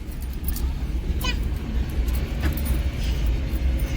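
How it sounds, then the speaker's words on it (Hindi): A vehicle engine starts and keeps running at a farm in a Chhattisgarh village, giving a steady, close, low rumble throughout while people talk over it. "फाइनली हमारा गाड़ी चालू हो गए है"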